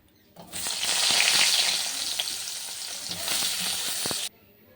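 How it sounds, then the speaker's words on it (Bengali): Eggplant frying in hot oil in a wok, a loud steady sizzle that starts abruptly, holds for about four seconds, then cuts off. "মাছ ভাজা হয়ে গেছে এখন বেগুনটা ভেজে নেব"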